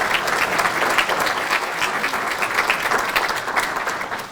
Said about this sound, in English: I want you to please again give our staff a round of applause for all the work they're doing now.